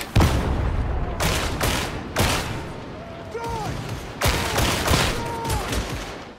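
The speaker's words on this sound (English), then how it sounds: "With this semi-automatic weapon, the player will be able to fire extremely accurate shots from a faraway distance" Semi-automatic lasgun fire in Warhammer 40,000: Darktide: sharp, loud shots at an uneven pace, roughly five or six over several seconds, each with a bright crack and short ringing tail, accompanied by faint tonal weapon whines.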